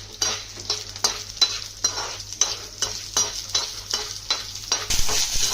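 Coriander seeds and green chillies frying in a pan for peanut chutney, with a steady sizzle broken by regular scraping stirs of a spoon roughly every half second, close and fairly loud.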